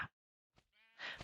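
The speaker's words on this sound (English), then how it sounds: "Sheep, yes, he needs a friend." A video game sheep gives a short, thin bleat after a couple of quiet clicks, clear and close, alone without talk.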